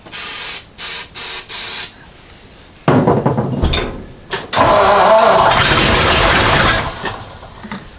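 A 1937 Ford V8-60 in a touring sedan cranks on the starter in several short bursts, then catches and fires into a loud, rough running roar that holds for a few seconds before easing off.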